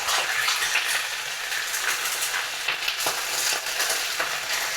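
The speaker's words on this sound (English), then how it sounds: "So the fish will be fried from each side." A crowded smaller pan of salmon pieces fries with a steady, dense sizzle and crackle throughout, close and fairly loud, with no voices.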